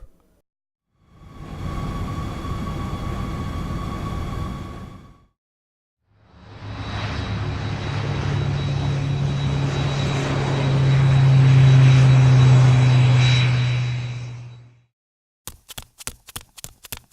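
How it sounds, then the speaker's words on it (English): A blimp's engine drones in two long steady passes, a loud close propeller hum that swells and fades, followed by a short burst of rapid clicks. "Blimp."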